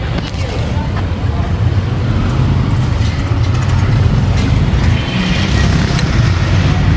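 A Bajaj Discover 125 cc motorcycle engine idles in neutral, a steady, loud rumble at close range, a low throaty drone with no breaks.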